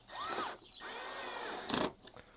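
A drill driver with its adjustable clutch set low drives fasteners into a BMW S1000XR motorcycle panel. Two short whirring bursts are followed by a brief ratcheting clatter as the clutch slips, close and fairly quiet.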